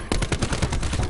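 Rapid automatic gunfire from a zombies video game, a dense burst of evenly spaced loud shots filling the whole moment, no talk over it.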